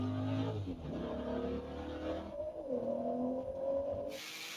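A powerful Ford GT sports car engine revs hard and roars during a drag race, its pitch climbing through gear changes before cutting away abruptly.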